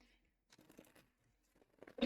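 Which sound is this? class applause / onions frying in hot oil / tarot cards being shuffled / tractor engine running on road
tarot cards being shuffled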